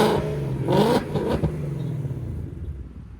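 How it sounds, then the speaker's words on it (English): A 2024 Mustang GT fitted with a Whipple supercharger revs by remote, a quick loud rise and fall of engine note up close, then settling back to a lower idle that fades. "I will show you guys that the remote rev still works"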